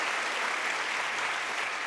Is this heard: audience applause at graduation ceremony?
yes